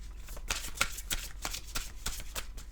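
Tarot cards are shuffled up close, giving a quick run of crisp riffling flicks and slaps in an irregular rhythm, soft overall and heard alone.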